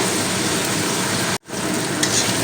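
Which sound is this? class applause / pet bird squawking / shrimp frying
shrimp frying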